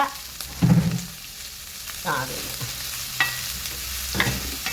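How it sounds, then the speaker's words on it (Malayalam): Ginger, garlic, shallots and green chili sautéing in a pan with a little salt, with soft sizzling and several scraping stirs of a spoon at intervals, close by and alone. "ഇഞ്ചിയും വെളുത്തുള്ളിയും ചെറിയ ഉള്ളിയും പച്ചമുളകും ഇതിച്ചിരി ഉപ്പൂടെ ഇടും അപ്പോൾ പെട്ടെന്ന് അങ്ങ് വഴന്ന് വരും"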